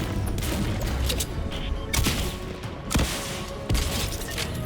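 Gunfire in a video game shooter: bursts of rapid shots and sharp cracks follow one another over several seconds, loud and close, against a dense, busy background.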